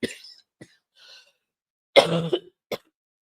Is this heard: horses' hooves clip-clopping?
no